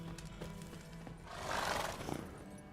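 A horse in The Witcher 3 clip-clops and lets out a rising whinny over quiet game background sounds, fairly faint throughout.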